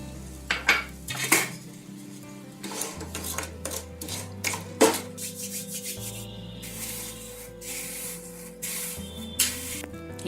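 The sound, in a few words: jaggery pieces added to pan of water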